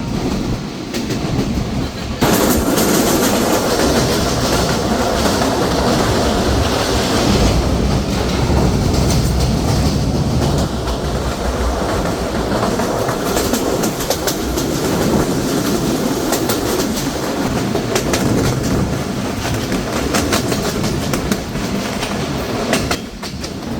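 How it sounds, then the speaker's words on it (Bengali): The Barendra Express intercity train passes through Arani railway station at speed, a loud, continuous rumble with rhythmic clickety-clack of wheels over rail joints and occasional metallic squeal, heard from on board for the whole stretch. "ট্রেনটি এই মুহূর্তে থ্রু পাস করে যাচ্ছে আরানি রেলওয়ে স্টেশন"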